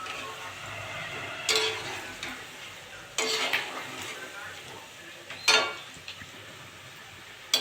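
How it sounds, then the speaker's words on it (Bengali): Jackfruit fritters sizzling in hot oil, with a few sharp scraping and clinking bursts as they are stirred and flipped in the pan, over a steady low frying hiss. "আমি উল্টে পাল্টে ভালো করে ভেজে নেব"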